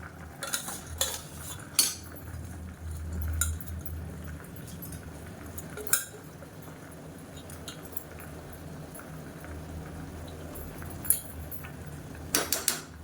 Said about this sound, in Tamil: இப்போ நம்ம ஊற வச்சுருக்க அரிசியை சேர்த்துக்கலாம்.